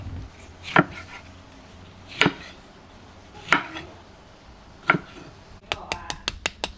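Four sharp, evenly spaced knife chops on a board, followed by a quick burst of rapid chopping at the end, cutting pork belly and pickled mustard greens; no talking.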